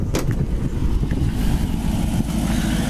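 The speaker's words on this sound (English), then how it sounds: "As this car was sitting here running, it idles great, sounds great," A 1967 Ford Mustang Fastback sitting with its engine idling outdoors in light rain, giving a steady, loud, continuous low rumble close by with no talk over it.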